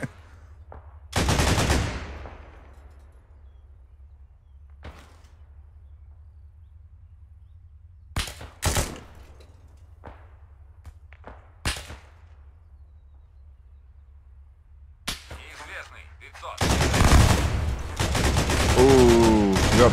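Bursts of automatic gunfire in the ArmA combat game: a loud burst early on, then scattered single sharp shots, and a long, dense, sustained volley near the end, with quiet gaps between.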